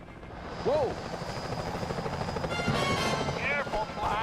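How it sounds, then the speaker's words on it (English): Security helicopters in Sly 4: Thieves in Time make a steady rotor drone that runs throughout, overlaid with game effects and short chirping sound cues. "Those security choppers are bad news."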